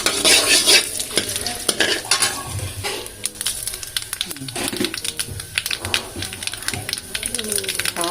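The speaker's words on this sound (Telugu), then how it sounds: "ఆనియన్స్, కడిగిన కరివేపాకు బాగా దోరగా వేయించి" Onions and curry leaves fry and get stirred in a pan, a steady sizzle broken by scraping stirs and clinks of a utensil, close and fairly loud, with talk running over it.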